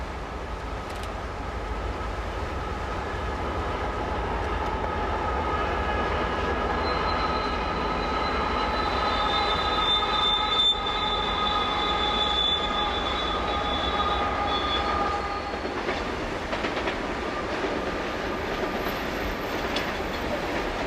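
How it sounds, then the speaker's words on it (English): An SP 260 locomotive leads a coal train toward the Royal Gorge, a steady loud rumble of engine and rolling cars with clattering wheels and a brief high squeal, continuous for about twenty seconds. "SP 260 leading a coal train toward the Royal Gorge."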